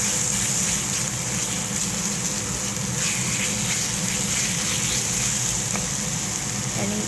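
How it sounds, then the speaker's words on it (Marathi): Water pouring into a pan of spiced moong vadi curry, a loud continuous gushing splash close by with faint sizzling underneath. "आपण सरळ त्यात पाणी सोडायचं आहे."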